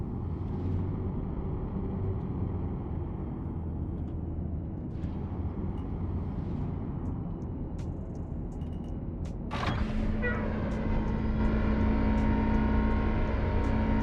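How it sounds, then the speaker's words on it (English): Spaceship landing gear deploying in the Star Citizen video game, a low engine rumble and whir, then a sudden pneumatic hiss and clunk followed by a sustained hum, like a bus stopping. "pulling the landing gear out sounds like a bus stopping"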